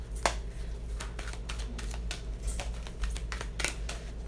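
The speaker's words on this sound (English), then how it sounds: "Just giving it a good shuffle." Tarot cards being shuffled by hand, a rapid series of close crisp riffling snaps and soft card slaps over a low steady hum, with no speech.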